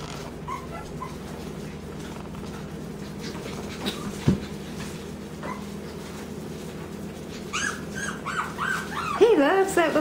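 Morkie puppies whimper and yip while playing with a toy on the floor, giving faint scattered cries and a louder burst of whines toward the end.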